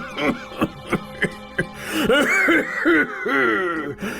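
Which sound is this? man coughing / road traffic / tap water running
man coughing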